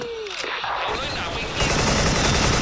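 AK74 gunfire in a first-person shooter game, a rapid burst of automatic shots that erupts loud and dense in the second half, with a voice talking over the earlier part.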